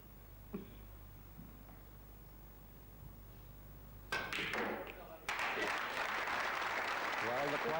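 A snooker hall crowd at the 1991 British Open final bursts into applause after a few quiet thuds and taps, with the clapping swelling into a loud, sustained ovation over the last seconds.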